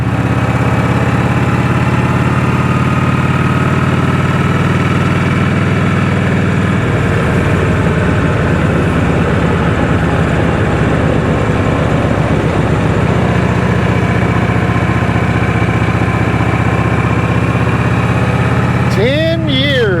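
A 1986 Harley-Davidson Liberty motorcycle engine idles loudly and steadily throughout, with a low, continuous rumble that rises briefly near the end.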